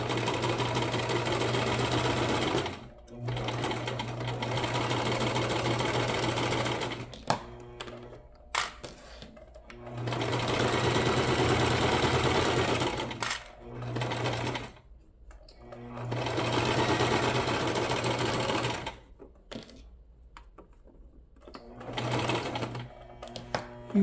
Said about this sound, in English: You're going to sew all the way to the end and do a back stitch.